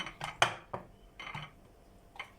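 Ornamental pickling peppers are dropped into glass jars or bottles, making a few sharp clinks and rattles at irregular intervals, close by and fairly loud, with quieter knocks between.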